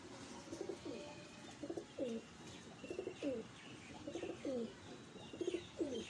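A pigeon coos in repeated soft, rolling phrases, about eight calls spaced roughly evenly, close by with quiet background.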